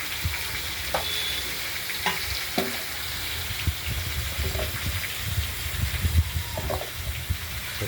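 Mixed vegetables fry in a pan while being stirred, a steady sizzle broken by repeated scraping and clattering knocks of the spoon at an uneven pace.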